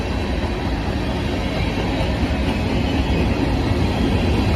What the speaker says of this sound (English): It's a long as hell train.